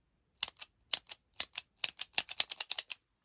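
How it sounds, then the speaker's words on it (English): A knitting tool clicks sharply and crisply about twenty times in irregular pairs and small clusters, close and distinct against silence, with no talk. "that click is the most satisfying"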